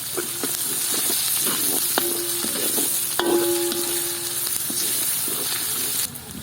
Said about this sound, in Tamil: நாங்கள் இஞ்சி போட்டு வதக்கினாங்க, கொஞ்சம் வதங்கி வரத்தான் தக்காளி பழம் போட்டு வதக்குவோம்.